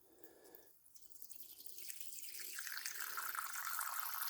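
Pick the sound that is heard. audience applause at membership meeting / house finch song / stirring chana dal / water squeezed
water squeezed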